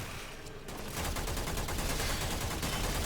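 A Warframe gun fires a steady, rapid stream of loud shots after a short quieter lead-in, continuing without pause to the end.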